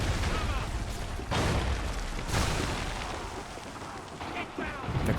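Loud, dense gunfire bursts from Assassin's Creed III, with several sharp booming hits over a constant roar of game sound effects, with voices speaking faintly underneath.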